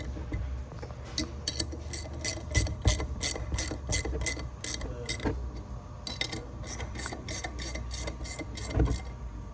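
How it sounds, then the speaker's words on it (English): A 1/2 inch wrench ratchets bolts down in a cross pattern while installing a Cryo-stem on a Flo-Tite Tri-pro series fitting, giving two long runs of quick, regular metallic clicks close up, with a brief pause between them. "now we're going to tighten these bolts down and tighten the nuts."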